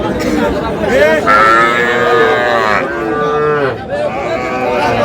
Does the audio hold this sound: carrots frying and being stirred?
no